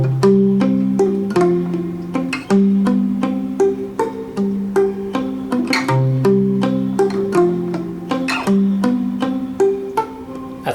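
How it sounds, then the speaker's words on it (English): A 1958 Stella H-929 parlor guitar with a rubber tube woven through the strings near the bridge as a mute, plucked in short, damped notes with a steady rhythm, close and alone. "That's the sound of a rubber bridge right there, and that's a real easy way to get one without doing any modifications to the guitar."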